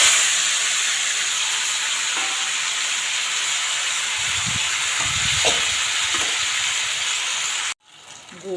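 Mango pieces hit a hot pan for chutney and set off a loud, steady sizzling hiss that carries on close up for several seconds and then cuts off abruptly.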